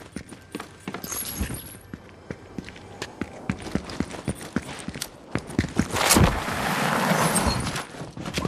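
Footsteps in the video game Fortnite, a rapid run of sharp repeated steps throughout, joined by a louder burst of noisy in-game action near the end.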